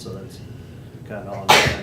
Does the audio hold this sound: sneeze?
yes